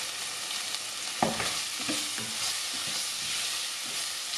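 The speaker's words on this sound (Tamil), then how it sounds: "இப்போ இதுக்கு இஞ்சி பூண்டு பேஸ்ட்டை போடுவோம்." Ginger garlic paste sizzling in hot oil in a pan, a steady broadband fry hiss with a sharp burst as the paste hits and soft stirring scrapes following.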